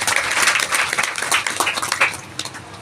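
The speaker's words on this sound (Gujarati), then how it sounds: "તાળીઓથી ગડગડાટ બતાવો" An audience claps at a saint's religious gathering in a Gujarati village. The applause is loud, dense and continuous, with uneven bursts as it slowly thins toward the end.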